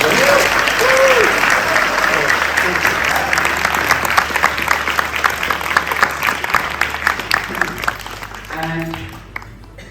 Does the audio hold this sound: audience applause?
yes